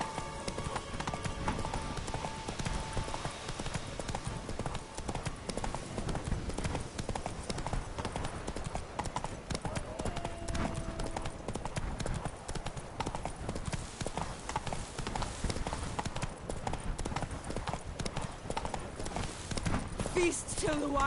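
A horse gallops with rapid rhythmic hoofbeats in The Witcher 3 video game. The clip-clop runs continuously under game ambience, and a voice talks over it.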